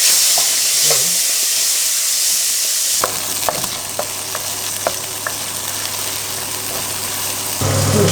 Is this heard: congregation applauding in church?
no